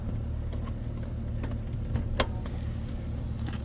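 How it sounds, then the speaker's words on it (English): A 1996 Infiniti I30 sits idling smoothly after recent running, giving a faint, steady low engine hum with a couple of small clicks partway through and no voices. "See, now the car's been ran fairly recently, so it's idling good"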